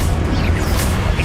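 A Confringo blasting curse exploding in Hogwarts Legacy, a loud, close, low booming blast with a rumbling burst that fills the moment without any talking.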